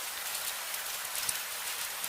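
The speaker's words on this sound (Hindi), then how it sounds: "करीब 15 मिनट बाद बारिश धीरे धीरे कम होने लगी।" Steady rain pours down as a dense, even hiss of drops on a surface, continuous and moderately loud throughout, used as an ambient effect in a Hindi horror story set on a night road.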